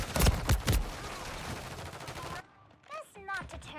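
Rapid bursts of automatic gunfire in a multiplayer video game shooter crackle loudly for a couple of seconds, then give way to shorter chirping game effects and quieter sounds.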